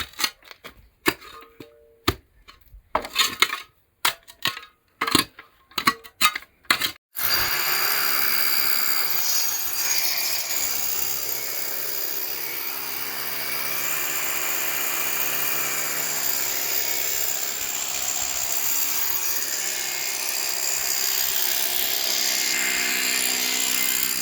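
A power drill bores into hard stone while drilling for water on rural land, a run of short stuttering bursts followed by a long, steady, loud grinding whine that holds to the end.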